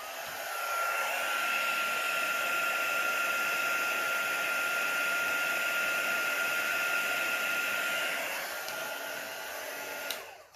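A hair dryer blows steadily on poured epoxy resin, a loud, even whoosh running nearly ten seconds before cutting off with a click.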